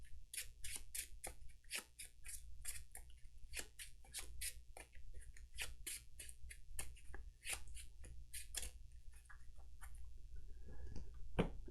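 A deck of Marvel Champions cards is shuffled, a fast run of crisp riffling clicks and snaps repeating steadily for several seconds with no speech.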